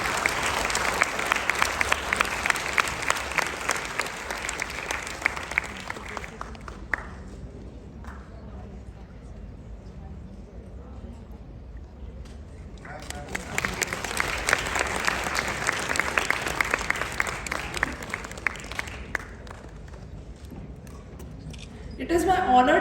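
An audience at an international yoga conference claps in two loud, sustained bursts of applause, broken by a quieter stretch in the middle, then a fresh swell of clapping at the end.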